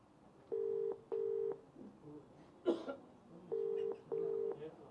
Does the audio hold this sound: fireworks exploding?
no